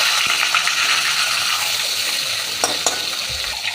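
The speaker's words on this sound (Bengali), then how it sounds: "এবার এই মাছটা আমি ভালো করে ভেজে নেব" A salted, turmeric-rubbed fish fries in hot mustard oil, giving a steady close sizzle with a few brief clinks of stirring near the end.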